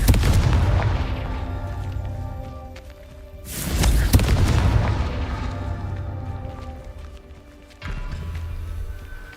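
Confringo blasting spell explosions in the Hogwarts Legacy video game: a loud booming blast opens, a second heavy burst hits near four seconds and another near eight, each with rumbling decay and crackle between.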